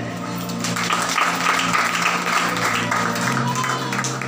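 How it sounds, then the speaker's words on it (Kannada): A Sunday church service congregation applauding during a sermon, a dense, steady wash of clapping from a large crowd indoors, continuous and fairly loud for several seconds. "ಒಂದ್ಸಲ ಚಪ್ಪಾಳೆ ತರ್ತೀರಿ"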